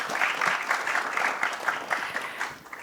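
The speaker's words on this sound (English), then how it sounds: "One more round of applause for that, ladies and gentlemen" A premiere audience gives a round of applause, dense continuous clapping filling the room at close range with no talking over it.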